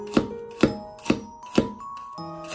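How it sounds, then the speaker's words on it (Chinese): A knife chops garlic cloves into small pieces with five crisp, evenly spaced strikes about half a second apart, close and clear over a faint humming background. "把它切成蒜粒"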